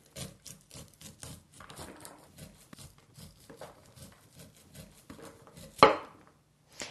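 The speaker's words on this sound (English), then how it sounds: "With your chef's knife, you're just going to run down the length of the corn to remove all of the kernels." A chef's knife runs down an upright ear of corn, cutting off the kernels with soft scraping and light tapping against the board, quiet and close, ending in one sharper knock.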